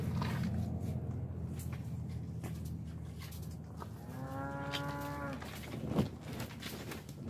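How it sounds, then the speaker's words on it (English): A single drawn-out moo from a cow farm sounds in the middle distance over a constant low outdoor hum, followed by a brief scuffing noise. "There, them cows back there."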